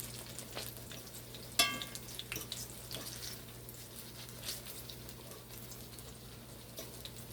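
Ripe banana fritters frying in hot oil, a quiet steady sizzle and crackle with scattered pops and one sharper spatter near the start, close by and without voices.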